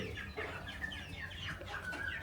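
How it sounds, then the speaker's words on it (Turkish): Several crossbred village chickens cluck and murmur softly together, a continuous chorus of clucks at moderate distance with no talking. "Kırma köy tavukları."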